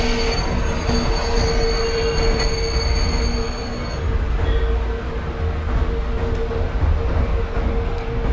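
A passenger train in Microsoft Train Simulator, the 51809 Kanpur–Tundla Fast Passenger, rolls along with a steady, loud rumble, carriage noise and thin wheel squeal throughout, with no one speaking.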